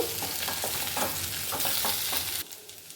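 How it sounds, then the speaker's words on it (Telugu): Potato and capsicum frying with chilli powder and coriander powder in a pan, stirred with repeated scraping strokes over a continuous close sizzle, no talk, the stirring stopping near the end. "కొద్దిగా ధనియాల పొడి వేసి బాగా మిక్స్ చేసుకుందాము"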